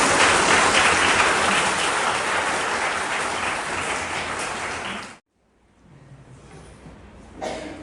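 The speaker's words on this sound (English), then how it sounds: "Let us give a big round of applause." An audience claps warmly after a lecture on the Hill State Movement and the birth of Meghalaya. The dense applause runs about five seconds, then stops abruptly, leaving a quiet room with a few faint stray sounds.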